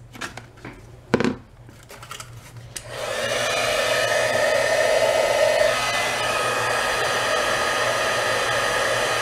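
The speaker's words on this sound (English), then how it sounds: "Now let's heat emboss this." Heat gun blowing hot air for heat embossing on a craft project: a few small clicks and taps, then a steady, close whooshing fan roar that starts abruptly and keeps running.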